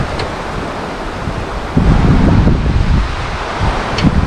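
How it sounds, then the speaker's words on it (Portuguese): Strong wind roars across an open outdoor spot near Ushuaia, buffeting the microphone with a steady rush that swells into louder gusts partway through, with no voices heard. "Porque aqui o vento não é para amadores."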